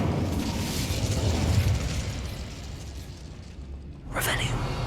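A fire spell cast in the video game Hogwarts Legacy, a rushing, roaring burst of flame throughout, fading briefly before a sharp whooshing flare near the end.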